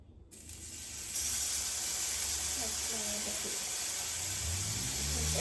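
Tap water runs steadily into a sink with a broad hiss while hands are washed beneath it, the flow starting abruptly and holding steady, with faint voices underneath.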